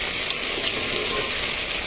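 Lentils frying in a hot wok-style pan, a steady dense sizzle with faint crackling, close and continuous, no voices.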